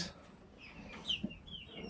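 Chickens, a mix of Australorps and Brahmas, cluck softly at a distance, a few faint chirps and low clucks over a quiet farmyard background.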